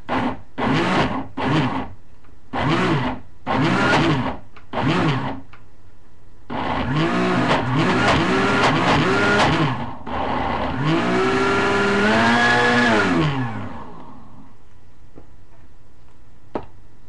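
A food processor pulses a thick black bean burger mixture in short, repeated bursts, then runs in longer, straining stretches as the dense bean paste loads the motor; the bursts are loud and close.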